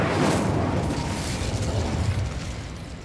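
Incendio fire spell cast in the Hogwarts Legacy video game: a loud, dense whooshing burst with a deep rumbling roar that holds steady for about three seconds and eases slightly toward the end.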